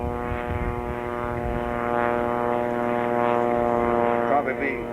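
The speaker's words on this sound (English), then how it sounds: "Get your eyes glued on that airplane, the Waco." Waco propeller biplane at the 1994 Dayton air show, its engine a loud sustained drone with rich harmonic tones, swelling slightly as it flies, with an announcer talking over it.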